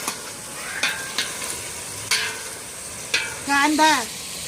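Chicken sizzling in a pan for a rustic village-style curry, with faint frying hiss under a few sharp utensil clinks and a brief louder burst of sizzle near the end, no voices over it.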